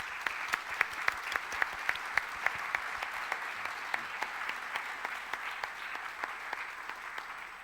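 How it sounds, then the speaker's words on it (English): Audience applause following a talk on whether science has buried God, a steady patter of clapping with a few sharp individual claps standing out near the start, moderate in level and fading slightly toward the end. "let's give a round of applause for them"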